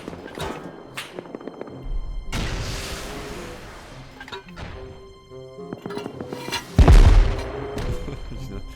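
Gunfire in the Rust video game: a scattered series of sharp shots and bursts, some distant and some close, with rattling crashes and a heavy loud boom near the end over ambient rumble.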